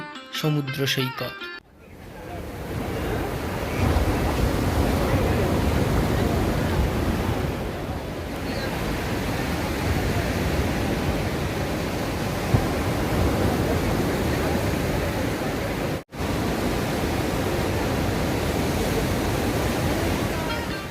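Ocean surf roars steadily at Puri beach in Odisha in a broad, washing rush with wind noise, after a brief burst of voices at the start.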